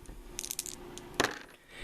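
Dice clatter across a tabletop during a Touch of Evil board game, a few quick rattling taps followed by one sharp louder clack near the end, heard close and alone.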